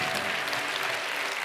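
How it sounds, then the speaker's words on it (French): Round of audience applause at a round-table conference on care and outreach work, a dense and fairly close burst of clapping lasting a moment, steady throughout. "On peut les applaudir."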